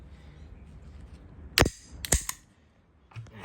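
Two sharp, loud reports from a Zoraki 4918 Turkish 9mm P.A.K. blank pistol, fired about half a second apart, with a few fainter clicks after them and no talk.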